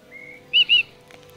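Two clear whistled chirps from a small bird in The Book of Unwritten Tales ring out close and loud in quick succession, preceded by a faint thin tone over a quiet game backdrop.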